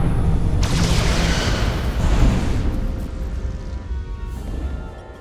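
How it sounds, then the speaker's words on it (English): Photon torpedoes fire from a starship in Star Trek Resurgence, a loud rushing burst with a heavy booming crash that fades into a rumbling tail. "Fire photon torpedoes!"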